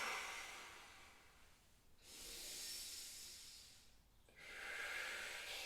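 A person breathing slowly during a yoga stool routine, two long airy breaths heard close, each a drawn-out hiss swelling and fading with a quiet pause between.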